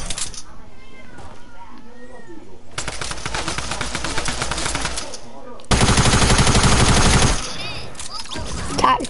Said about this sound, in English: Tactical SMG.